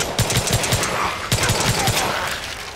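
Automatic gunfire in Far Cry 5's zombies mode, two quick bursts of about five rapid shots each, loud and close, separated by a brief pause, with no talking.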